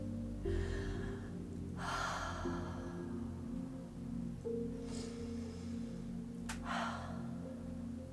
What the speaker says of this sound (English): let's close our eyes, take like 3 deep breaths together.